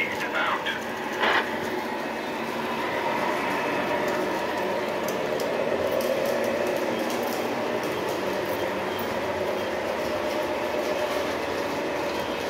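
Steady rumbling and clacking of three model trains running along double-level FastTrack, continuous and fairly close, with faint high squeals now and then.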